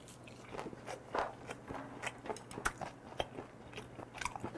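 Close, quiet crunching and biting of food wrapped in dried seaweed (gim), in irregular crisp bites and chews with no talk.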